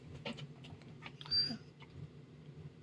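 Gertie the dog whimpers softly in a snowbound cargo trailer camper, a few faint short whines and snuffles close by in an otherwise quiet space with a low heater hum beneath.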